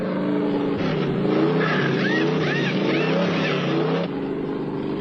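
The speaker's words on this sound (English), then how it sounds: "here come all the heavy hitters of the most competitive automobile racing in the world to have their cars serviced" NASCAR stock cars at the 1977 Winston 500 pull onto pit road. Their engines make a loud, continuous roar that rises and falls as they rev and slow, with the cars close by.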